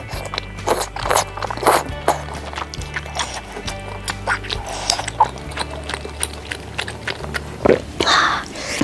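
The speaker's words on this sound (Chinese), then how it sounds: "我要来嗦火锅粉了。" Thick, wide hotpot noodles dunked in a rich, numbing-spicy broth are slurped and chewed close to the mic, with wet bites and sucking sounds coming in irregular bursts over a low steady hum.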